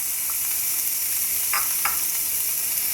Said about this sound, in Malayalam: ഒരു സവാള ചെറുതാക്കി അരിഞ്ഞ് വെച്ചായിരുന്നു അതും കൂടി ചേർക്കാം